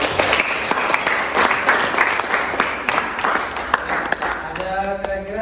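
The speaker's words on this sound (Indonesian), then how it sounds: "Tepuk tangan dulu untuk kelompok 1." A classroom audience claps for a student group after its presentation: steady, dense applause at close range that fills the whole stretch and thins out toward the end.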